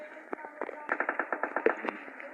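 Rapid automatic gunfire in PUBG, a burst of about a dozen evenly spaced cracks preceded by a few scattered shots, moderately loud through game audio.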